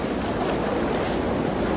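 Waves break steadily on the rocky, sandy shore of Ilha do Mel in Paraná, a loud continuous roar of surf and wash mixed with wind buffeting the microphone.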